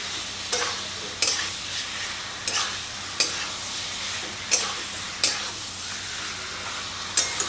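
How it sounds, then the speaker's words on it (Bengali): Young jackfruit and fried potato are stirred with spices in a pan, a steady sizzle with regular scraping stir strokes roughly every second, close and even throughout. "দুটো একসাথে দিয়ে মশলার সাথে খুব ভালো করে কষিয়ে নেব।"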